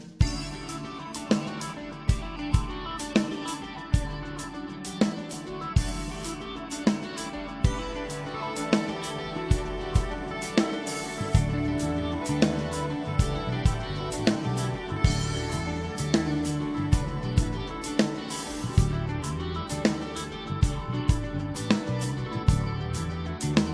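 A full band groove with a drum beat whose hi-hat falls in 3/16 groupings, with a bass line locking to that hi-hat part. Regular sharp accents repeat steadily throughout a dense, mid-level mix with no talk.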